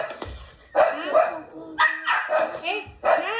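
A dog barks in short bursts, three or four sharp yappy barks spaced about a second apart, close and loud, mixed with voices talking around it.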